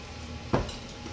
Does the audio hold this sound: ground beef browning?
yes